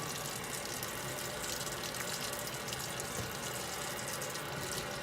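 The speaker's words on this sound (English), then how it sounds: "first thing, wash the hands" Hot water runs steadily from a tap as hands are washed beneath it, a constant close rushing hiss with no voices.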